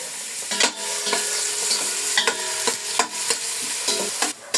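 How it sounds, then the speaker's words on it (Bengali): Carrots for biryani frying in oil, a steady sizzle broken by repeated sharp scrapes and clatters of a spatula stirring in the pan, close and fairly loud. "গাজরটা প্রথমে অল্প একটু ভেজে নিব"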